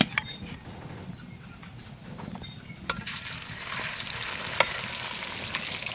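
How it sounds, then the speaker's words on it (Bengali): Ingredients drop one by one into hot oil in a wok, each raising a sizzle that grows louder and more continuous, with a few utensil clinks. "এখন আমি এক এক করে কড়াইতে সব তেলের ভেতরে ছেড়ে দিব"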